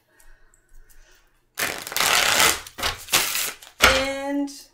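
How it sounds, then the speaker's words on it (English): A deck of tarot cards is shuffled up close in two quick riffling bursts of papery flutter and clatter, after a short stretch of quiet handling. "2 shuffles for the main deck."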